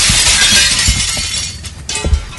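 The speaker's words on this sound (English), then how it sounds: "That's the sound of the window breaking" Glass shatters loudly, a bright crashing burst followed by scattered tinkling shards and a second clatter near the end.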